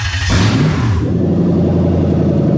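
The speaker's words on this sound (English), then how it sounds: "then we'll jump in and start the engine." A Toyota 1UZ-FE VVT-i V8 swapped into a Toyota Altezza cranks briefly, fires up loudly, then revs and settles into a steady, close, rumbling idle.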